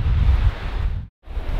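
Wind buffets a microphone outdoors, a loud low rumbling roar that cuts out briefly near the end before resuming.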